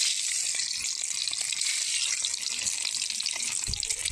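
Eggs slid into hot oil in a heated kadai give off a steady, close hiss of frying that runs throughout, with no talking.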